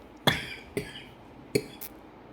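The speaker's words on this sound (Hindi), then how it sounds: "सॉरी, खांसी आ गई।" A few sharp coughs, close and abrupt, spaced irregularly over a quiet room background.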